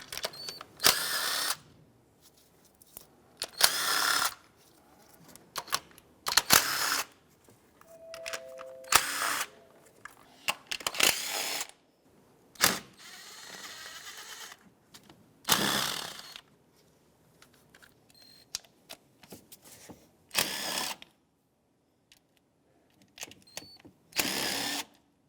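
8mm nuts and bolts are removed from a Ford Focus engine during a variable valve timing solenoid replacement, short bursts of a power ratchet or driver whirring repeatedly, close, with pauses and faint clinks between.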